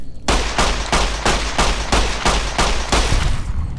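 Rapid bursts of gunfire in Fallout: New Vegas, about eight evenly spaced loud shots with a steady rhythm over a continuous low rumble, close and alone with no talking.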